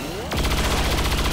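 A rapid burst of automatic gunfire strikes a turret in the video game XCOM 2, loud and sudden after a short rising whine, with evenly spaced shots rattling on to the end.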